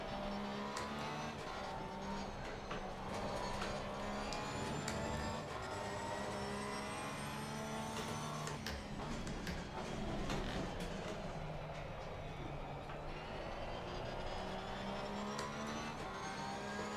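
A race car engine in Assetto Corsa Competizione drones at steady revs with a rattling, gear-like mechanical texture and brief shifts in pitch, heard alone for a long stretch.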